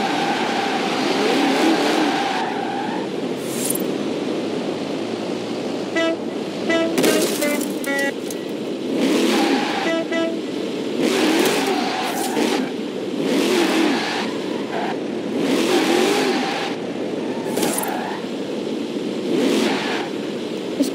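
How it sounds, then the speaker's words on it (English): Car engines in the racing game Forza Horizon 4 roar and rev continuously for about twenty seconds, loud and steady, with repeated surges in pitch and bright electronic chirps layered over the engine noise. "I hope you guys enjoy sounds of these sorts of cars, because you'll have to be hearing them a lot more."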